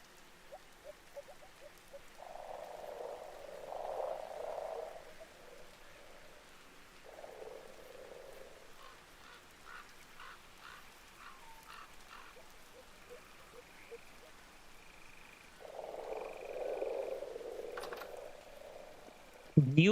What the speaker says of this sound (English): Do you constantly hear frog chirping like this?